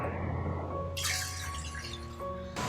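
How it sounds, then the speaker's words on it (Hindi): Water poured from a glass into a cooking pot in a kitchen, a short splashing pour lasting about two seconds, close and fairly quiet, with no talking. "एक भगोने में 2 गिलास पानी डालकर उबलने के लिए रख दें।"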